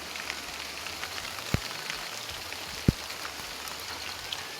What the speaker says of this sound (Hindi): ये देखो अभी शाम के टाइम बारिश आ गई है, बहुत तेज